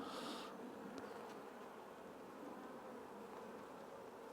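A dense, steady buzz of many honey bees close by around a hive frame, swarming continuously with no pauses.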